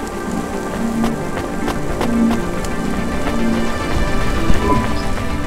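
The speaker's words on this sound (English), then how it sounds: "Don't let all the rain get you down." Steady rain in the video game Cloudpunk, a dense constant patter falling over a rainy city scene, with faint soft taps and a low rumble running beneath throughout.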